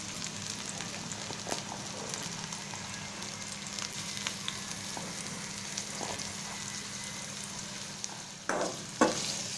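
Onion, garlic and green chilies frying with spices in a pan, a long even sizzle with scattered scrapes and taps of a spatula, and louder clattering stirs near the end; no one speaks.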